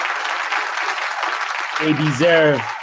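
Stadium crowd applauding at the Roma vs Feyenoord Europa League football match at the Stadio Olimpico, a steady broad wash of clapping and crowd noise before a single voice begins talking over it near the end.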